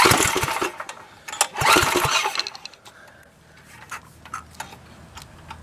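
A Tecumseh 8hp go-kart engine on a Liberty kart sputters through a start with loud bursts and clatter, then settles into an uneven, ticking idle close by.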